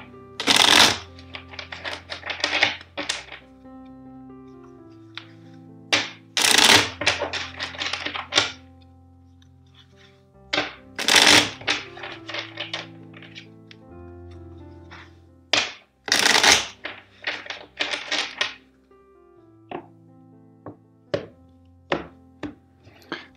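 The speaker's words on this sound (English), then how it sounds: "So let's shuffle four times." Tarot cards are shuffled in repeated bursts, with crisp riffling and tapping that comes in several rounds of sharp, close clatter and short pauses between them.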